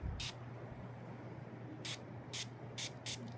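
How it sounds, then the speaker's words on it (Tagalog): A perfume atomizer with a grape-like fruity scent gives one short spray, then after a pause a quick series of four brief hissing puffs, close and crisp over a quiet hum. "Ayan spray natin."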